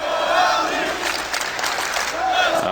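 A large esports crowd at the MLG Columbus 2016 CS:GO grand final cheers and roars loudly and continuously, with surges of shouting rising and falling throughout.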